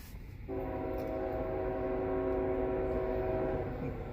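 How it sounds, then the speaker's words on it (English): An intermodal freight train rolls past, its horn sounding a sustained, multi-tone blast that starts abruptly and holds steady under a low rumble of wheels. It is fairly loud, with no speech. "This is going to be that IM train. Intermodal train."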